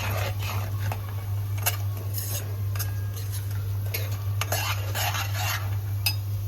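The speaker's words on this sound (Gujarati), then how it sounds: "મસાલો થોડો તેલમાં ફ્રાય થઈ જાય." Turmeric, salt and masala spices frying in oil in a pan for a Gujarati guvar (cluster bean) curry, with steady scraping and clinking stirring strokes over a constant low hum, no talk.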